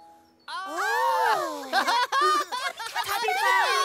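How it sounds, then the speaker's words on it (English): A chiming, ringing cartoon Tubby phone in Teletubby Land rings out in bright, repeated tones, alongside high childlike giggling voices. "there was a ringing sound."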